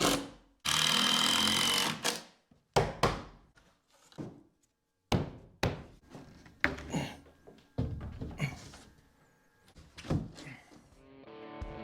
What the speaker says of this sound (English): I'm gonna try to get a screw, at least a couple screws in each board.